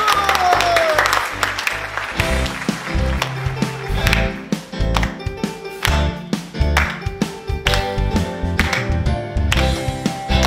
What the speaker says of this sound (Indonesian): Oke, kasih tepuk tangan buat Tuhan Yesus.